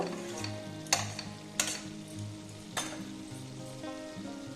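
Spice paste for a paneer curry sizzles in oil as it cooks down until the oil separates, a soft bubbling fry marked by three or four distinct scraping stirs against the pan.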